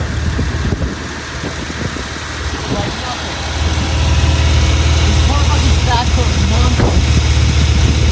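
A repaired boxer engine runs after being brought back to life, a loud steady idle that rises slightly and holds a constant rumble, with people talking over it.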